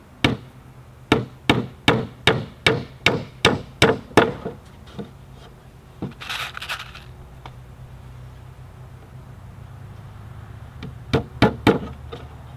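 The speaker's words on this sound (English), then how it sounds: "It's really difficult to nail this narrow plywood together." Steel nails are driven into narrow 3/8-inch plywood for a bee swarm bait hive, with a quick run of about ten sharp hammer blows, a pause with some rustling, then a few more strikes, close and loud.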